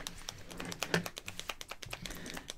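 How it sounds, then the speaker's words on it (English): A tube of Rimmel London Shake It Fresh mascara is shaken, its insides clicking and rattling in quick, irregular light taps close up, with no talking. "So I'm going to shake it. You can hear it clicking around in there."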